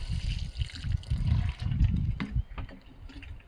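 Water is poured onto a newly planted Thuja Danica, a soft, close splashing and trickling that fades out near the end.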